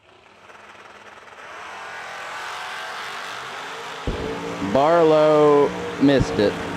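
Drag race cars, one a Chevy II, roar off the line at a dragstrip, loud engine howls rising and cutting out after a stretch of crowd murmur and track ambience, with an announcer talking over the scene.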